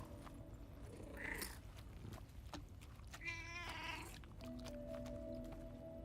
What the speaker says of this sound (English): I want a tar kitty.